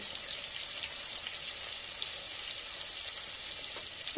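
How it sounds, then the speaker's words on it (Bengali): Potatoes seasoned with salt and turmeric fry in hot oil with a constant bright, crackling hiss that holds even and unbroken throughout, close and moderately loud, with no voices. "লবণ আর হলুদ দিয়ে আলুগুলি আমি হালকা একটু লাল লাল করে ভেজে নেব।"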